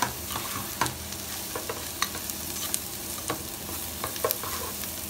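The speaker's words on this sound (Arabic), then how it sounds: "بنحمر البصلة" Onion browning in a pan with oil, a steady close sizzle and crackle running throughout, with scattered sharp pops and stirring clicks; no voices.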